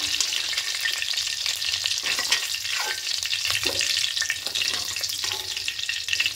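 Eggs fry lightly in hot oil in a pan, producing a loud, continuous crackling sizzle with scattered pops and a few faint utensil scrapes, close up and steady throughout.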